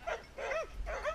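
An Airedale terrier in obedience training gives three whining, yelping barks in quick succession, close and fairly loud, with a low rumble beneath.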